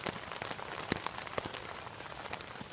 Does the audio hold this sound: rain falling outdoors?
yes